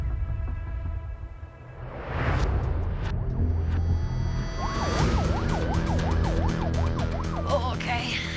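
Ambulance siren wailing at a car crash scene, starting after a couple of seconds and sweeping up and down in a rising then rapid yelp pattern, loud and steady over low rumbling vehicle noise.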